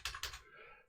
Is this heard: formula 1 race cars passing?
no